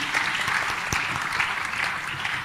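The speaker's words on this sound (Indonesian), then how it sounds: "Boleh tepuk tangannya sekali lagi." Steady applause from a crowd at an awards talk event in Manado, Indonesia, continuous clapping filling the space throughout.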